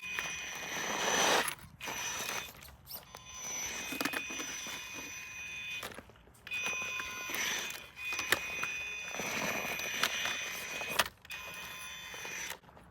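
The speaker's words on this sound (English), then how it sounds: "this ESC is going to scream" Proline Baja Pro X RC truck with its motor and ESC running, a high electronic whine that rises and cuts out in repeated bursts with short gaps, fairly faint and with no talking.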